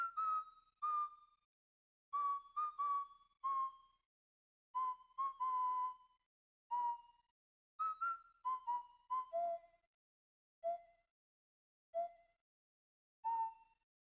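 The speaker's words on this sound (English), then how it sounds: "In a lit room, Luigi whistles the theme" Luigi whistles the Luigi's Mansion theme in a video game, a clear solo melody of short whistled phrases separated by silent gaps, with no background.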